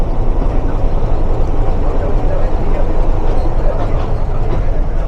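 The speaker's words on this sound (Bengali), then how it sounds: "মিরবাগ ছেড়ে যাচ্ছে লালমনিরহাট কমিউটার" Heavy, continuous rumble of the Lalmonirhat Commuter local train pulling out of Mirbag station in northern Bangladesh, loud and close from start to finish.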